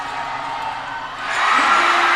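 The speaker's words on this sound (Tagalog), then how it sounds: "hindi na natin marinig ang ating Arian announcer dahil mas malakas na ang hiyawan ng mga fans" Basketball fans cheer and shout inside an arena during a Sorsogon cup game, a broad crowd roar that swells louder about halfway through and stays strong.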